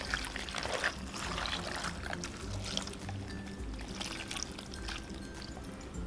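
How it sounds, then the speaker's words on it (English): Two cups of beef broth pour into a slow cooker for pot roast, a close, continuous liquid splashing and gurgling that runs steadily throughout without speech. "to this we're gonna add 2 cups of beef broth"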